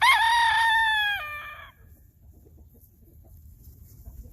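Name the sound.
rooster, Barred Rock and Sapphire Gem cross, crowing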